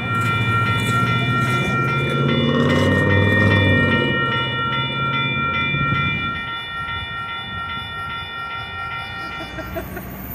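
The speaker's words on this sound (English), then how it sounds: "Here we thought we were going to get some neat photography of the train crossing the street" A freight train in Kearney, Nebraska rumbling loudly close by with a heavy low drone and steady high tonal squeals, the rumble easing after about six seconds while wheel clatter continues.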